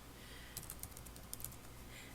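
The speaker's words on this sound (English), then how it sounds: "I can select and I hit backspace to delete." A computer keyboard being tapped, a few soft, quick clicks in two short clusters, quiet and close in a near-silent room.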